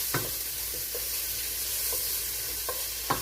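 Onions sizzle in a pot of meatball spaghetti sauce as a utensil stirs them, giving a steady soft frying hiss broken by a few light scraping knocks, close and quiet.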